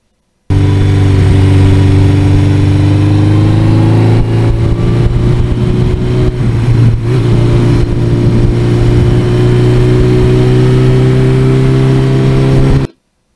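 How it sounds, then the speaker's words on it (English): Suzuki GS1100E motorcycle on a test ride with a new sprocket, its engine droning loud and steady at low, easy revs close to the mic, with wind rush and a slight pitch change midway, no talking. "And with the new sprocket, the motor's hardly working."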